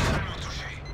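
A tank cannon firing in World of Tanks, an AMX 50B battle, lands as a loud low boom at the start that rumbles on through the whole second, with a voice talking over it.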